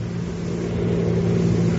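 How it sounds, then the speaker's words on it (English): Car engine in a radio drama, a steady mid-pitched hum that swells slightly as the vehicle draws nearer, with no voices. "Sounds like a car heading this way."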